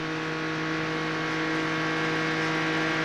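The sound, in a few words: race car engine at full throttle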